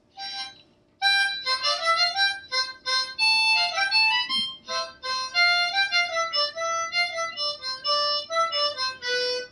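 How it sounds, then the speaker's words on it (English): Minuet in G played solo on a harmonica, a clear, bright reedy melody of detached notes and short chords in a lilting triple rhythm, close and steady with no talk. "And I'm going to play Minuet in G for you."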